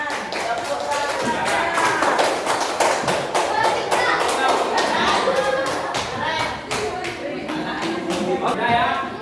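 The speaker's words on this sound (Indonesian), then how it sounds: "Beri tepuk tangan untuk kelompok 3." Students in a classroom clap for a group, a burst of quick, uneven hand claps with children's voices chattering over and between the rhythm, fairly close and lively throughout.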